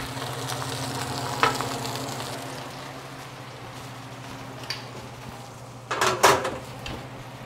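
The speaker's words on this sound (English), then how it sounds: "we've been browning up our sausages about 5 minutes on each side" Sausages for Maxwell Street Polish brown in a skillet with a low steady sizzle, close by. A few knocks and a brief clatter of utensils come near the end, and no one speaks.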